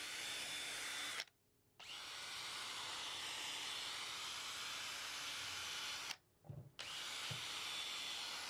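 A power drill with a polishing sponge attachment buffs an epoxy coating on wood, running in two long steady whirring stretches broken by short pauses.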